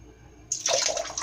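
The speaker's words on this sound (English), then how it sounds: "I like to get most of the water out of the brush before I start loading up" Water shaken and flicked out of a wet shaving brush, a short burst of splashing and dripping that starts abruptly halfway through, close and fairly loud, with no talking.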